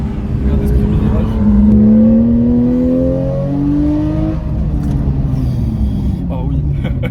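Porsche 911 with a PDK gearbox in manual mode, Sport Plus and traction control off, accelerating hard on a race circuit, its engine note climbing through rapid gear changes, loud and close, with a voice talking over it.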